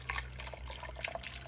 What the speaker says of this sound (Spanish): Pongo un poquillo de agua, ya la tiré.